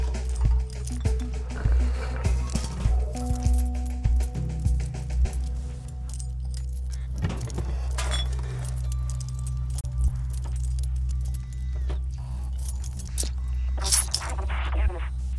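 Keys jangling in the video game Stray, several light metallic clinks and rattles over a low steady hum, fairly quiet and close, with no talk over them.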